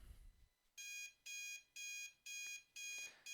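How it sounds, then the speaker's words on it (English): A video game alarm clock rings with a repeating electronic beep, six bursts in a steady pulse. The beeps are bright but fairly quiet, and a brief low rumble comes just before them. "My alarm pulls me back to the mortal coil."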